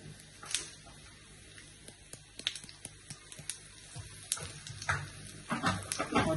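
Cumin and asafoetida tempering crackles and sizzles in hot oil for a baghar, with scattered pops and spits at first that thicken into denser bursts toward the end. The sound is fairly quiet and close.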